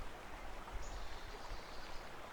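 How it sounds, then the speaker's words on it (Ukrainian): A forest stream in the Carpathian mountains flows with a soft, even trickle, faint and steady throughout with no other sounds. "Відпочиваєш біля струмка і насолоджуєшся кожною миттю проведеною в цьому лісі."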